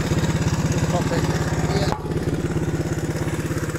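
An old trike engine running at a steady idle, a loud, close, evenly pulsing thump with a brief dip partway through before it settles back into the same rhythm.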